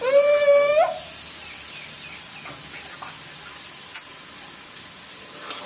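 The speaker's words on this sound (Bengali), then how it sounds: "এটা এখানে ভাজতেছি" Rice frying in a pan before it goes into a rice cooker for pulao, cooked at home for Eid guests: a soft, steady sizzling hiss runs throughout, opening with a brief high whistle-like tone.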